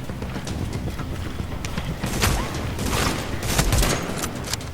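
Gunfire in The Division during a rooftop comm relay fight, a ragged series of sharp shots and bursts, some louder and closer, crackling over a noisy background with no talking.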